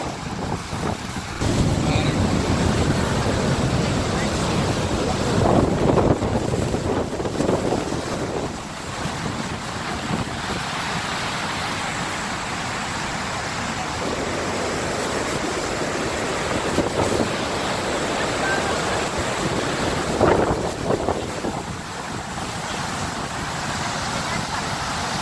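A waterfall in Iceland roars close by as a steady, dense rush of white noise, buffeted by wind on the microphone throughout.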